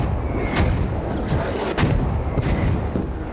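Video game explosions boom in a quick series, with several sharp blasts and deep thuds landing at irregular intervals over a constant low rumble.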